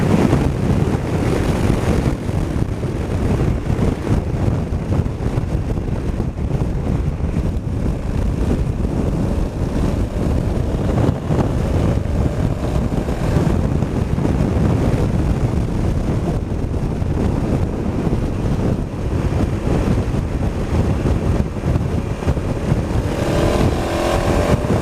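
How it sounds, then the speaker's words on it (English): A Honda Africa Twin Adventure DCT motorcycle revs while riding in sport mode, its engine drone steady and loud under heavy wind buffeting for the whole stretch. "Oh yeah, it revs a lot longer in sport or S mode."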